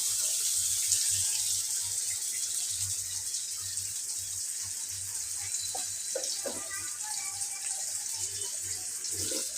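Chopped onions and green chilies fry in a pan with a steady, close sizzling hiss, punctuated by a few soft clatters near the end.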